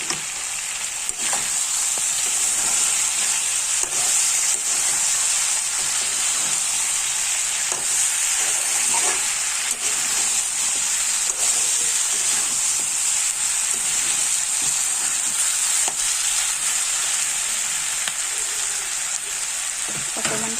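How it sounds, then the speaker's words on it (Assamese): Garlic and fresh green chillies fry in hot oil in a pan alongside meat, giving a steady, loud, close sizzle that runs unbroken throughout with occasional stirring clatter and no voices. "এতিয়া মই নহৰুখিনি দিম। লগতে কেঁচা জলকীয়াখিনি দি দিম।"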